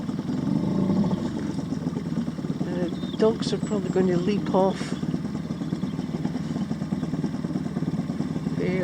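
A boat's outboard engine runs steadily near the shore in shallow, weedy water, a close continuous drone that stays under a voice as he talks.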